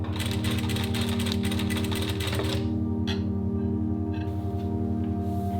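A sewing machine stitches a Christmas stocking, its rapid, even needle chatter running loud and close for a few seconds before stopping, leaving a steady background hum with a couple of light clicks.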